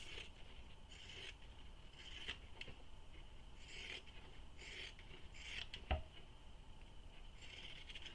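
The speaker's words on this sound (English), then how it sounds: "I'm going to use my pinking shears for this" Pinking shears trim the seam allowance of a fabric bag, giving a faint series of soft rasping snips and rubs at an irregular pace, close and quiet with no talking.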